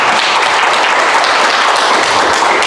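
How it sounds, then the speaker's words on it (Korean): A church congregation bursts into loud, dense applause, a continuous wash of clapping from many hands filling the space. "박수 한번 쳐주십시오."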